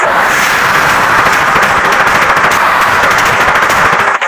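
An archer character firing in the game ARBS, a loud, dense stream of rapid crackling shots that barely lets up, like continuous volleys in a busy battle.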